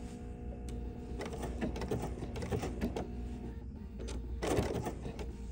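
A sewing machine runs the last few stitches around a fabric tray, overlapping where the seam began, a steady mechanical whir with clicks and a brief louder burst near the end.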